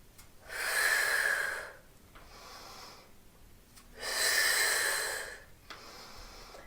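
Two deep inhales during an ab workout, each a loud breathy rush lasting about a second, with quieter exhale-like breaths between them, close to the microphone.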